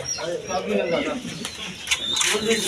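Pigeons cooing in short low murmurs close by, partly under someone talking.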